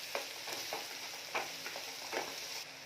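Finely chopped garlic and onion sizzle quietly in a pan while being stirred, a soft steady fry broken by several rhythmic scraping strokes, with no voices.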